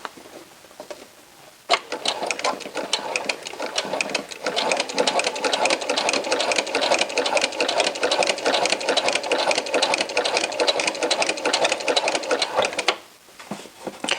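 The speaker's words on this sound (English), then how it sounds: "keep your finger right there and continue sewing" Sewing machine stitching a T-shirt hem with elastic, a close, loud, rapid mechanical chatter that starts after a quiet moment, runs steadily for about eleven seconds, then stops.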